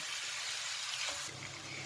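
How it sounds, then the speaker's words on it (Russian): Tomato frying in a pan with pilaf ingredients gives a steady, close sizzling hiss that continues for the whole stretch, dropping a little in level near the end. "Перемешиваем и жарим все вместе еще пару минут."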